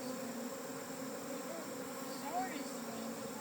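A swarm of honey bees gathering near a branch gives a steady, dense droning buzz that holds evenly throughout, with occasional individual bees zipping close past.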